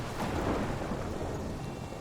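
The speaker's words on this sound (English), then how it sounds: "The storm's gonna get them now." A thunderstorm in the game Life is Strange rumbles with a deep, continuous roll of thunder over dense rain, loud and unbroken for the whole span with no talking.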